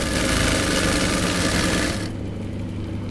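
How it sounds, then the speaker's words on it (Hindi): A sewing machine runs a zigzag stitch in a steady, loud mechanical whir with a fast regular rattle. The running sound drops slightly near the end, and no voices are heard. "ये देखो ये हमारी जिग जैग वाली सिलाई आ रही है।"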